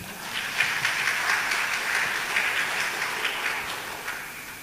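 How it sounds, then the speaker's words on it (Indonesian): Applause from an audience for department heads at a government gathering, a steady, dense wash of clapping that holds for several seconds with no voices over it. "Tepuk tangan buat kepala dinas semua."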